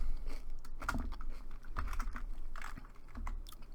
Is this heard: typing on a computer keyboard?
yes